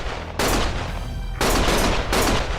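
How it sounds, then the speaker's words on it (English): Gunfire rings out in a Lost Judgment video game cutscene: three loud, dense bursts of rapid shots in quick succession, close and harsh, with no talking. "Stop shooting!"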